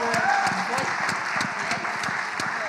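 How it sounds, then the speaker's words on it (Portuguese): A church congregation applauds in a steady, dense patter of clapping heard from a moderate distance, continuous across the short stretch with speech faintly beneath. "Aplaude a Jesus aí, igreja."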